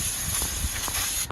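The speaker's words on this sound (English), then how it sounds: "I'm going to spray it down." Aerosol brake cleaner sprayed onto the front brake caliper of a 2006 Ford Ranger XLT: a steady, close, hard hiss that runs unbroken for over a second, then cuts off abruptly.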